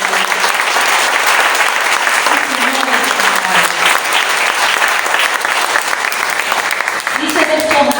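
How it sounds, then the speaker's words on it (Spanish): A church congregation gives loud, continuous applause to the Lord, a thick rattle of many hands with cheering voices rising over it and a speaker's voice entering toward the end. "¿Cuánto le pueden dar un fuerte aplauso al Señor?"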